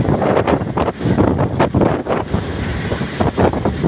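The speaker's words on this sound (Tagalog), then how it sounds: "medyo hangin pa rin" Strong gusty wind buffets the microphone in loud, rumbling bursts, with no voices over it.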